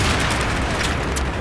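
Explosions from grenades in Battlefield 3 on Operation Metro, a dense, loud, continuous roar of blasts overlapping with no quiet gaps.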